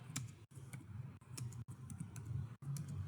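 Quick, light clicks of typing on a computer keyboard in short bursts separated by brief pauses, quiet and close, with no speech.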